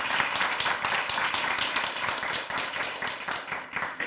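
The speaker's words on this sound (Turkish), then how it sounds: "Şimdi alkış geliyor." Canned applause plays on a Turkish TV call-in show: quick, crisp clapping in uneven bursts, fairly faint and steady, with no voices over it.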